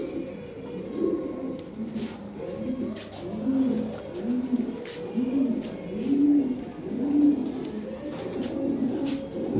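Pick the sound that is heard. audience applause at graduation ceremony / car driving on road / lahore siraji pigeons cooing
lahore siraji pigeons cooing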